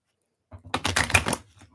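Oracle cards are shuffled in a short burst of rapid riffling flutters after a brief silence, close and crisp, stopping abruptly under a second later.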